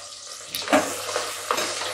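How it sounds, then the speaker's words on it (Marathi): Sliced onion fries in a pan for masala rice, a steady sizzle with a couple of stirring scrapes close by. "इथे आपल्याला उभा चिरलेला कांदा टाकून घ्यायचा आहे आणि तो छान फ्राय करून घ्यायचा आहे"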